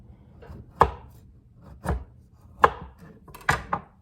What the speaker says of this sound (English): You want to cut them thinly